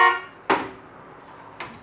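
A 015 chord played during a music lecture on chord and tone statistics: a brief sustained harmonic chord that quickly fades, followed by two short struck tones, with no talking over it.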